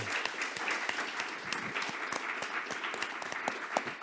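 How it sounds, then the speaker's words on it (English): An audience at the Lugano Happiness Forum applauds steadily, with dense clapping that keeps up evenly throughout at moderate loudness. "So they deserve a big round of applause."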